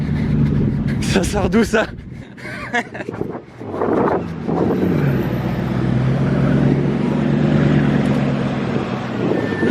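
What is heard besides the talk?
green carbon Bugatti Chiron Sport driving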